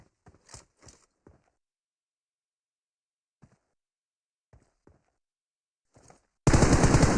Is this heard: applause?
no